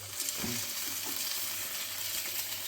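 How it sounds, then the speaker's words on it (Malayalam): Whole mackerel, heads on, fry in oil in a pan, giving a soft, even, continuous sizzle with a few faint stirring touches early on and no voices. "ഇനി നമുക്ക് മീൻ വറക്കാം"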